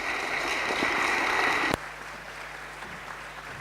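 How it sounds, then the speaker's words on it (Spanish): Audience at a scientific talk applauding a speaker: broad, steady clapping from a room of people that cuts off sharply partway through, leaving only quiet room tone afterward. "Un aplauso para él, por favor."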